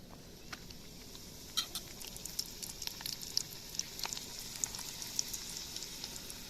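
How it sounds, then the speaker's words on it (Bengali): Luchi fries in hot oil in a wok with a steady, fairly faint sizzling hiss and scattered sharp crackles and pops throughout. "তেলটা গরম হয়ে গেছে, এবার লুচিটা দিয়ে দিতে হবে"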